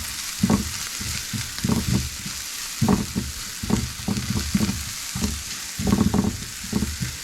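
Vegetables sautéing in a little oil for instant ramen, stirred in uneven bursts of scraping and clatter above a soft, continuous sizzle nearby.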